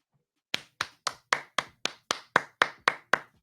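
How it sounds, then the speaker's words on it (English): A single person claps about eleven times in a steady, even rhythm, close and fairly loud, with no talk. "Cairo Anderson, you get a clap from me"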